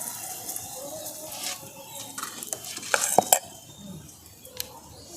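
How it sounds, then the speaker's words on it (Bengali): A ladle of semolina batter goes into a pan and is spread around, giving soft scraping and stirring with a faint sizzle and a few sharp metal clinks near the end. "এবার এখান থেকে এক হাতা ব্যাটার নিয়ে আমি এইভাবে দিয়ে দিচ্ছি।"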